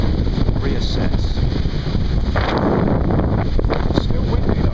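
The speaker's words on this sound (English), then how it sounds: "Still windy though." Strong wind blows steadily across the microphone beside the rivers Cam and Ouse, a loud, continuous roar and buffeting with no break.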